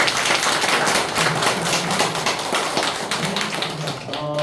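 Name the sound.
audience clapping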